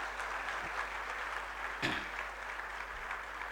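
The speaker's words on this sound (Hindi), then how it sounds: "एक बार बात को छोड़ के पुरुषों के लिए तालियां होनी चाहिए।" An audience at a women's event applauds the men present, a soft continuous spread of clapping in a hall, fairly distant and even, with a slightly louder burst partway through.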